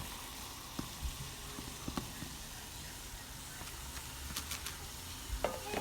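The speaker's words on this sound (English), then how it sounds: "you really want to mix that up together and stir it" Ground oats being stirred into baby food in a cooking pot: quiet, continuous swishing and scraping with a few light clicks of the utensil against the pot, close and faint, with no speech.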